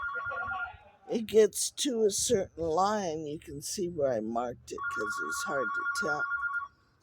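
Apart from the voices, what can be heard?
telephone ringing next door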